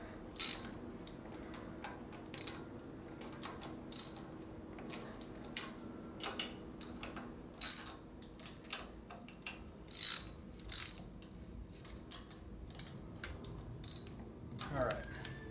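A hand ratchet tightens bolts on a 1972 Harley-Davidson Ironhead Sportster 1000cc during a street tracker rebuild, giving short bursts of clicking scattered through the clip with pauses between them, close up in a quiet workshop.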